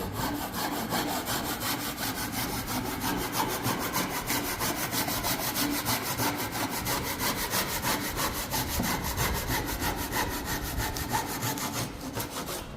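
Hand saw cutting through a wooden 2x4 stud during a woodworking class, a steady rhythmic rasp of back-and-forth strokes running continuously and close throughout, with no talking.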